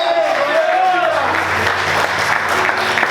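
A church congregation applauds Jesus during a sermon, a dense burst of clapping mixed with cheering voices and a brief sung or shouted tone near the start.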